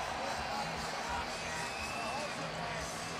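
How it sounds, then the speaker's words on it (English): Ice hockey fans in an arena roar and cheer as a dense, steady wash of crowd noise heard from a distance, with commentators talking over it. "And listen to these fans."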